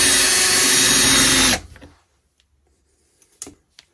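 A TOPSHAK 20V cordless drill-driver runs loud and steady, drilling a hole with the clutch set just below maximum torque, then cuts off abruptly; a few faint clicks and knocks follow in the quiet.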